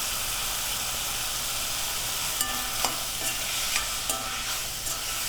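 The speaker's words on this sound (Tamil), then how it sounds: "உப்பு சேர்த்து நல்லா வதக்கி விட்டுடலாம்" Tomatoes with added salt sauté in hot oil, giving a steady close sizzle with a few light scraping stirs of a spoon against the pan.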